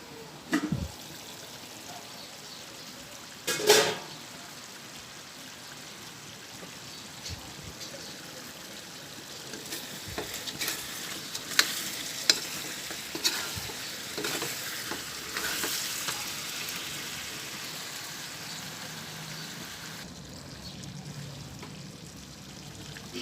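Sinantomas pork ribs, a Quezon dish, frying and bubbling in a pan: a steady, quiet sizzle with occasional stirring knocks and brighter crackles, and no voices.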